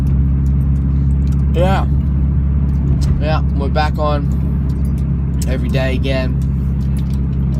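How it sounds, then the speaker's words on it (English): Steady low rumble of a car interior while driving, a constant engine and road drone running throughout beneath someone talking. "We're back in the car again."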